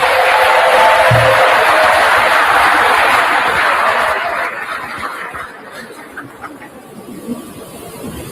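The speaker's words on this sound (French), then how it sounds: "que je vous prie déjà d'applaudir" An audience at the Ballon d'Or ceremony, Cameroonian football federation event, claps in a loud, dense wash of applause that gradually fades to scattered claps.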